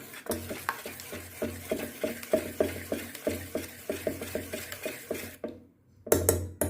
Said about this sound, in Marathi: चिमटभर सोडा टाकून हलवून घेऊ बेटर